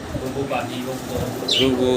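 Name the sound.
pigeons cooing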